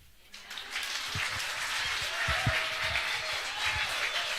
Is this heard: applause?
yes